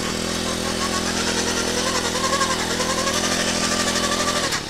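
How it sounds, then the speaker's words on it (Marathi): A pull-started engine power hoe for weeding runs with its throttle raised, a loud steady close-up engine drone that holds level throughout. "ही रस्सी जाम धरून फक्त अशी ओढली तर मशीन एकमध्ये स्टार्ट होते"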